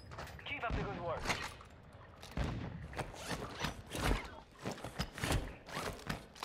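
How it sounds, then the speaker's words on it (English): Gunfire in Warzone 2 on Ashika Island, quiet bursts of shots and sharp cracks scattered irregularly across the scene, mixed with footsteps and mechanical clatter, heard at a distance and faint overall. "Taking fire over here."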